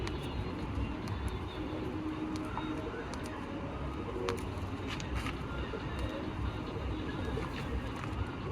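Pigeons coo softly while being handled as their feathers are plucked, the low murmuring calls set against steady background noise and a faint hum of activity.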